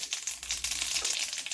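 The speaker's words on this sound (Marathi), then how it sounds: "मोहरी चांगली तडतडून द्यायची।" Mustard seeds and cumin crackle in hot oil for a tempering, a dense, close, continuous sizzle with rapid tiny pops and no speech.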